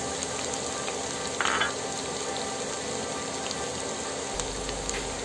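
Onions fry in hot oil for a katla fish bhuna, a steady, close hiss of sizzling with one brief louder burst from stirring and no talk.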